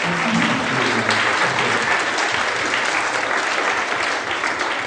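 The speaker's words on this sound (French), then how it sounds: "Mesdames et messieurs, on l'applaudit très fort." An audience at an evening campfire show claps steadily, dense, loud applause throughout with a brief voice at the start.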